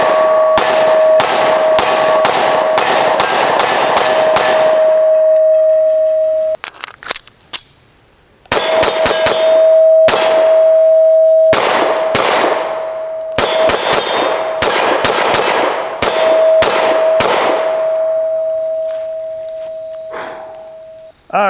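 Pistol shots from a SIG P365 X-Macro fitted with a metal grip module ring off steel targets at an outdoor shooting gallery: sharp, loud reports, each followed by a sustained metallic ring, fired in quick strings with brief pauses between.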